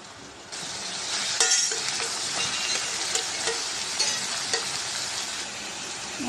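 Onion, garlic and ginger paste fries in oil in a kadai with a steady, close sizzle, broken by occasional stirring scrapes and light clinks of the spoon against the pan.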